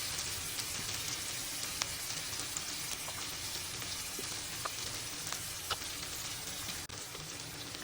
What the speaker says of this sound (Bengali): এই যে আমার ইলিশ মাছ ভাজা হয়ে গেছে। এখন আমি একই তেলে দিয়ে দেব 1 কাপ পেঁয়াজ,